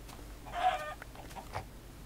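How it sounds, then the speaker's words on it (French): A Minecraft chicken clucks once, a short nasal cluck, then faint softer clucks follow over a quiet game background. "Mais il ramasse les poules!"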